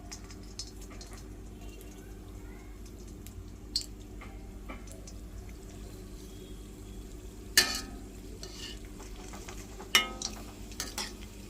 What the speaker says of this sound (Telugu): మనం ఇలా ఫ్రై చేసుకోవాలంటే గోల్డెన్ బ్రౌన్ వచ్చే వరకు ఫ్రై చేసుకోవాలి